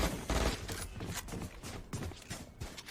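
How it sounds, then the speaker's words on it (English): Gunfire in a competitive shooter video game match, with close-range SMG fights. A dense, continuous crackle of rapid shots and impacts runs loud throughout without a break. "Nice shots coming out from China Nguyen"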